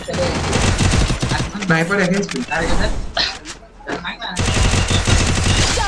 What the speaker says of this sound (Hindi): ये देख यहाँ पर मैंने फायर किया